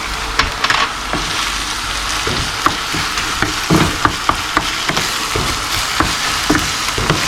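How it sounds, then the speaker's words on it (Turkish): Garlic and tomatoes sizzle and crackle steadily in a hot pan, with occasional stirring scrapes and taps against the pan. "Onlar da hafif kavrulsun domateslerle."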